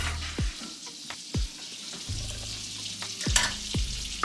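Onions frying in melted butter in a pan, a soft crackling sizzle with several sharp utensil taps and scrapes, close by and with no voices.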